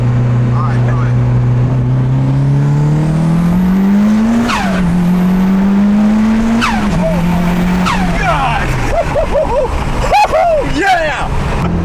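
A rebuilt Mitsubishi Lancer Evo 8 engine revs loudly from inside the car, its pitch climbing through each gear and dropping at two clear shifts. Voices and excited shouting cut in toward the end.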